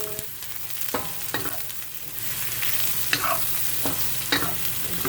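Basil eggplant stir fry sizzles in olive oil, a continuous close hiss broken by several sharp clacks of a utensil stirring the pan, with no voices.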